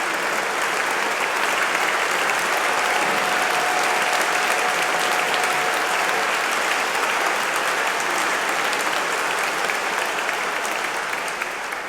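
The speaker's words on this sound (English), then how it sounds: "Take the applause." A large graduation ceremony audience applauds an honorary Doctor of Science recipient, a steady, dense, loud wash of clapping that holds evenly for about twelve seconds with no talk over it.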